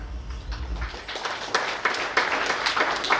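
Audience applause at a Goan diamond jubilee celebration honouring Devidas Shankar Aamonkar, a dense sustained clapping from a hall crowd that starts softly and swells into fuller, steady applause, with no talking over it.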